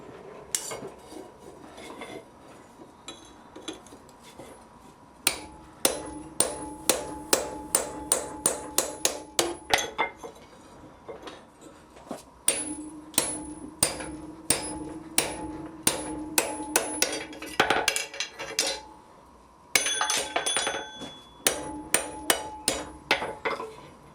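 Hammer blows ringing on hot steel at the anvil while drifting the eye of blacksmith tongs, loud metallic strikes in quick rhythmic bursts separated by short pauses, with anvil ring between hits.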